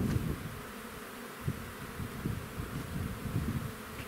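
Bees buzzing around a hive outdoors, a dense, continuous close drone of many insects with slight swells in loudness, no voices.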